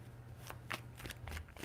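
Tarot cards are shuffled by hand in a few quick riffling bursts, soft and close, over a faint low background hum.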